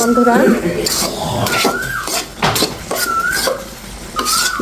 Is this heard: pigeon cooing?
no